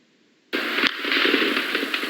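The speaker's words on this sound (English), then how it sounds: "The noise of gunfire rose from all over the center of Peking." Sudden loud burst of crackling, popping gunfire across central Beijing, starting after a moment of quiet and continuing as a dense, unbroken clatter.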